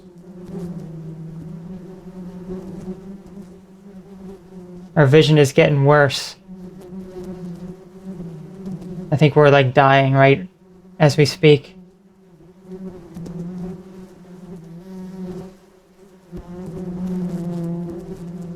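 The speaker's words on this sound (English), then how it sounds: "Oh, these bees are overwhelming us." A swarm of bees buzzes continuously in the horror video game Killer B, a dense droning hum that carries under bursts of loud, harsh noise and a person talking.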